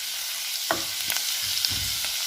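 Garlic and ginger fry in hot oil, a soft continuous sizzle broken by a few stirring scrapes and clinks close by.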